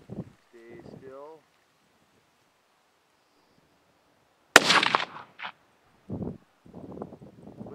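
Rifle shot fired at a gopher with a varmint grenade bullet during an outdoor gopher hunt: one sharp loud crack with a short outdoor tail, with people talking before and after.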